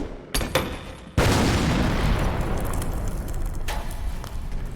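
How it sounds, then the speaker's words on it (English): Grenades detonate in an animated Warhammer 40k battle: a sharp blast, then a massive booming roar that rumbles on with crackling debris, and another sharp crack near the end, loud and close with no voices. "throw your grenades!"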